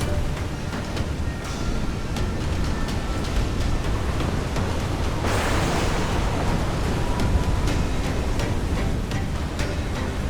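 Rough sea swells and crashing waves churn around a waterspout on the open ocean in Assassin's Creed IV Black Flag, a loud, steady wash of broadband noise that thickens into a heavier surge midway through.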